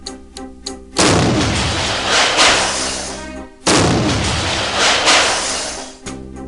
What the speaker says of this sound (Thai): การระเบิดนั้นถือว่าเกิดขึ้นพร้อมกันทั้ง 4 จุดนะครับ